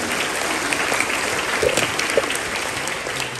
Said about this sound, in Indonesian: Boleh tepuk tangan untuk keluarga.